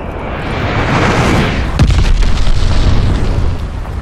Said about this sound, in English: Enemy glide bomb coming in hot.